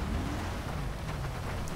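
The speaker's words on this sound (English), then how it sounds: "It's raining, so I don't think anyone will be outside, but hey, it's GTA, you never know." Steady rain hisses down in the GTA video game, a dense, even wash of falling drops that stays constant and fairly loud for the whole short stretch.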